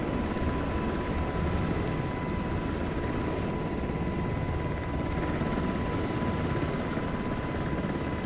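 A UH-60M helicopter taxiing in a flight simulation game produces a steady, loud rotor and turbine drone with a constant whine, unbroken and without speech.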